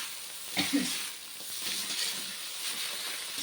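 Egg noodles sizzle in a large kadai as they are stirred, giving a steady frying hiss with a couple of scraping clinks from the spatula near the start, close and fairly even in level.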